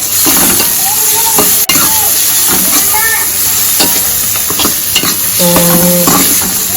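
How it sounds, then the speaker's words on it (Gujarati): Onion, tomato, chili and ginger sautéing in a pan for bread pakoda, loud and close, with a hissing sizzle broken by repeated stirring scrapes and clatters through the whole stretch. "હવે કાંદા ટમેટા અને મરચાં આદું બધું સંતળાઈ જાય ત્યાં સુધી તેને રહેવા દઈશું"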